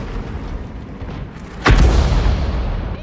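In World of Tanks, a Lorraine 155 mle.51 fires an artillery shell that lands a high-explosive hit on the turret of a Type 5 tank, giving one heavy boom over a steady game background rumble with no talking.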